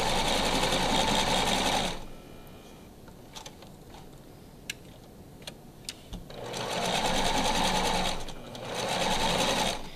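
A sewing machine runs in two bursts while stitching the top edge of fabric, a steady whirring run for about two seconds, a quiet pause with faint clicks as the presser foot is lifted, then two more close, loud runs.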